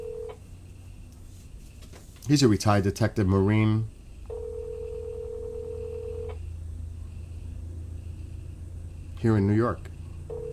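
Telephone keypad dialing tones while placing a call: a steady tone, then a long electronic tone after a burst of speech, with someone talking briefly in between and near the end.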